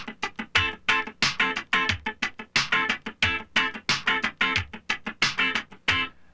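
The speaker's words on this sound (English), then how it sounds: "you may have played it scratching the whole way through, and it sounds like this" Funk rhythm guitar strummed with continuous muted scratching, a steady, even stream of percussive chucks with brief pitched chord tones, close and fairly loud with no voices.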